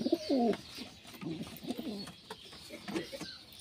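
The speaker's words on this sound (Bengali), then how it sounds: "তো প্রথমেই আমরা এক জোড়া নিচে খেলা পায়রা দেখাবো আপনাদেরকে" Pigeons in a Bengali high-flying breed pair coo in low, rolling phrases, a couple of clear bursts near the start and softer repeats afterward, close by over a faint background with no talk.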